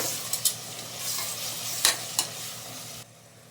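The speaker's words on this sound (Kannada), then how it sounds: "ಖಾರದ ಪುಡಿ ಧನಿಯ ಪುಡಿ ಸೇರಿಸ್ಕೊಳ್ತಾ ಇದ್ದೀನಿ ಮೊಸರು ಸೇರಿಸ್ಕೊತಾ ಇದ್ದೀನಿ ಎಲ್ಲ ಒಂದ್ಸರಿ ಮಿಕ್ಸ್ ಮಾಡ್ಕೊತಾ ಇದ್ದೀನಿ" Chili powder, coriander powder and yogurt being stirred together in a pan for methi tomato rice bath, with a soft sizzle underneath and a few sharp spoon scrapes and clicks before the sound drops away near the end.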